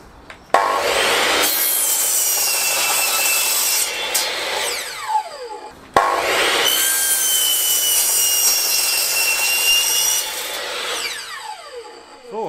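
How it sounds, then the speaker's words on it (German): A hand saw cuts through a wooden slat for a raised garden bed in two passes of rapid rasping strokes, each ending as the piece separates, close and fairly loud with brief pauses between. "und sägen nachher das Ende ab."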